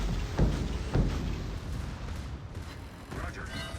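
Naval gunfire in a warship video game, several deep booming shots and rumbling impacts at a moderate level, the first two close together, under game ambience with a person talking over them.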